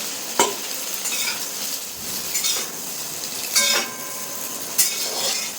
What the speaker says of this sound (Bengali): এখন আমি ভাজা হয়ে গেছে সোয়াবিনগুলো এখন আমি একটা বাটির দিকে তুলে নেব